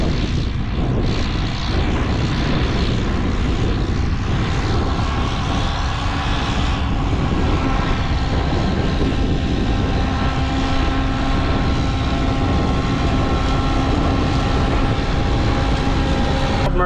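A tractor pulling a seed planter while sowing soybeans, its engine giving a steady, loud, continuous drone with a harmonic whine and no talk over it.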